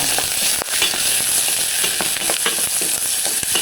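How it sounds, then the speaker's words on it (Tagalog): Monggo beans with onion being stirred in a pan, a dense continuous sizzle of frying with scraping spoon strokes and crackles throughout, loud and close, no talking. "Haluin muna natin guys."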